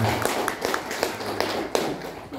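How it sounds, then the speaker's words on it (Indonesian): Scattered clapping from a business seminar audience, a thin group of distinct hand claps spread irregularly across a couple of seconds rather than a dense roar. "Oke, tepuk tangan dulu ya."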